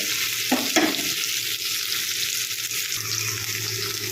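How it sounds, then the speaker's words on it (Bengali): Cubes of paneer fry in turmeric-tinted oil with a steady, close sizzle, broken by a couple of brief stirring scrapes of the pan near the start. "পনিরগুলো আমি এদিক ওদিক করে ভেজে নিচ্ছি"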